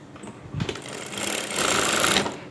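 A sewing machine stitches the side pocket opening of a dress using a single-sided zipper foot, running in a close, loud, continuous whir that speeds up after a brief start and stops near the end.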